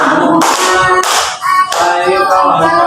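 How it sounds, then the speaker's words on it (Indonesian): A group claps in a steady rhythm, bright sharp hand claps repeating close and loud with brief pauses between bursts. "tepuk lima jari"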